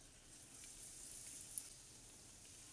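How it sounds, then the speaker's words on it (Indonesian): Battered eggplant fries in hot oil over medium heat, a faint steady crackling sizzle with a few tiny pops, heard close and without talk. "Dan langsung aja kita goreng di minyak panas di api sedang."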